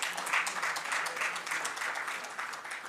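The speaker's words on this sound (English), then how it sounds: "A big round of applause to you," Audience applause at an HR round-table event in Mumbai, a dense steady wash of many hands clapping, moderately loud and sustained without pause.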